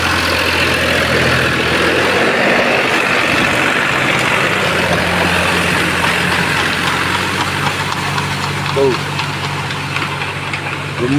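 A tractor engine runs steadily throughout on a farm, a loud low chugging drone close by.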